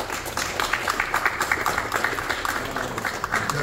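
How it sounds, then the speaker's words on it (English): An audience at a Malcolm X event applauding, steady scattered clapping from a crowd, continuous and moderately loud with no pauses. "give a round of applause for yourself"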